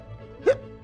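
A man imitates a bear's hiccup with his voice, a single short, sharp gulping hiccup sound up close against a faint background hum.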